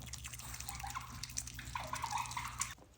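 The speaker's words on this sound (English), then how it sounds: "Here's a little clip of some otter ASMR." Otters playing in water, close splashing, dripping and sloshing with small bright droplet plinks over a faint steady hum, ending in a sudden quiet.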